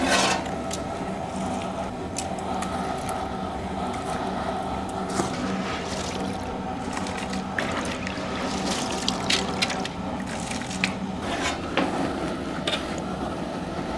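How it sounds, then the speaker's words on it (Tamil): Rice poured into a pot of boiling water while cooking lemon rice for a large batch, heard as steady bubbling and watery churning with small splashes, close by and without talk. "இப்போ நம்ம தண்ணி கொதிச்சிருச்சு, அரிசி போட்டுக்கலாம்."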